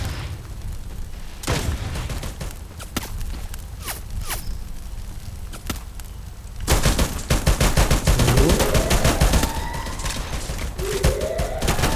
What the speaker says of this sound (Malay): Lihat bagaimanakah tembakan dilakukan oleh OG Song di sini